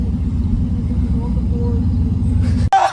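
A car engine rumbling steadily while driving around, a low, close drone that cuts off abruptly near the end as a voice speaks.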